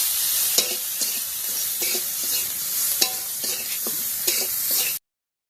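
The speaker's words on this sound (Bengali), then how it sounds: "এখন ভালো করে মাছগুলো ভাজা ভাজা করে নেব" Dried fish sizzling in a hot pan with onion, garlic and green chillies while a utensil stirs and scrapes at irregular intervals, close and steady, then cutting off abruptly.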